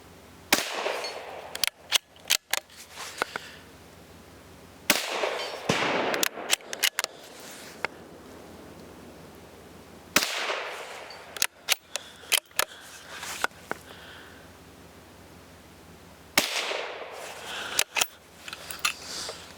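Sharp, loud .22 WMR rifle shots from a Savage 93 Gen 1 bolt-action fitted with a Vortex scope, fired outdoors in irregular clusters with quiet gaps between, several cracks per burst plus bolt-working clicks.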